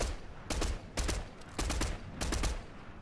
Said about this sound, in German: Da vorne wird geschossen.